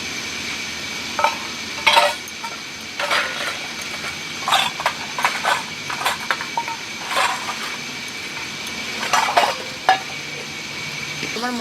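Spice masala for a pond-crab curry being sautéed in a pot, with repeated metal scrapes and clinks of a spoon against the pan over a low background hiss, near and moderately loud.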